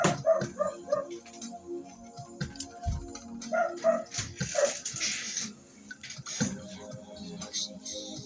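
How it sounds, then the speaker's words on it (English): A dog barks in a quick run of sharp yips and barks, close by, with short pauses and some household rustling between bursts. "I really have to get my dog because she's barking at the moment."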